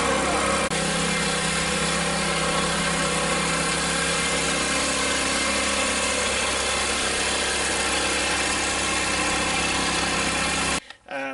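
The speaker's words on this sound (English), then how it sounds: "So let's go ahead, fire it up, and do some tilling" A 212cc Predator engine fitted to an old garden tiller runs steadily at a loud, buzzing idle close by, with no change in pace, then cuts off abruptly near the end.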